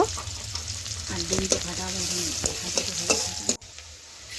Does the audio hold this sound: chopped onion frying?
yes